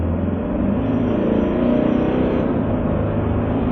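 A 2023 Toyota Hiace long-wheelbase van accelerates hard from a rolling start at about 30 km/h, a steady low engine rumble and road drone heard from inside the cabin with no talking.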